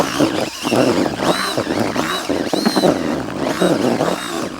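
An electric drill whirs loudly as it mixes fishing groundbait with water for river fishing, its motor rising and falling in several repeated bursts over a few seconds, close and with no speech.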